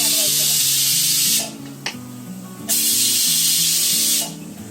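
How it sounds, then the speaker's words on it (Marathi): Pressure cooker on the stove releasing its built-up steam pressure after the first whistle, cooking a no-onion mixed vegetable tahri pulao: two loud sustained hissing bursts with a short pause between, a voice speaking under the hiss. "आता थोडा प्रेशर घालवायचा त्याचा."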